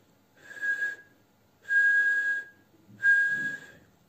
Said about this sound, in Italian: Non era propriamente un fischio, ma uno zufolio sordo piuttosto, a fior di labbra, sempre con la medesima cadenza.